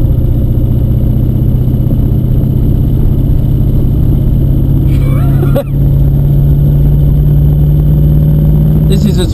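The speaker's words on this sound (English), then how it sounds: "This is its first official drive as a V8." A V8-swapped Toyota Hilux engine runs loud and close, holding a steady, droning note for several seconds with a brief dip near the middle, then carrying on as the truck pulls away.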